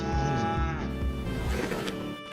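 Cows mooing in a hay barn, a long, loud, droning low at close range that carries through the whole stretch with no talk over it.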